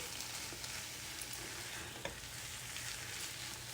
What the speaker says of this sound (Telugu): ఇంత బాగా పట్టేట్టు కలపాలి మొత్తం అంతా కలిపేసినండి